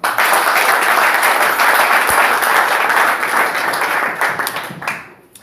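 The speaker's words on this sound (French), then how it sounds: "Applaudissons pour le Seigneur." A church congregation applauds in praise, a dense, loud wash of many hands clapping together that holds steady and then thins out and fades toward the end.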